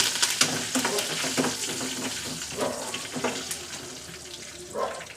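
Curry leaves spluttering in hot oil in a pan, close crackling pops and a hissing sizzle with bursts of stirring scrapes, uneven and lively throughout.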